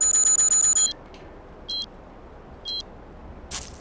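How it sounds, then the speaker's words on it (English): A big alarm clock rings in a rapid, loud burst of repeated bell tones, then falls silent before two short separate rings and a final brief rattle. "No, it's a big alarm clock."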